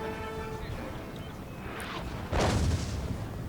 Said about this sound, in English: here comes more artillery shells from the howitzers